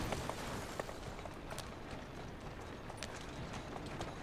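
Hooves of a horse-drawn carriage clip-clop in Assassin's Creed Syndicate, a quick, steady run of clattering hoofbeats over a continuous rolling wheel and street background.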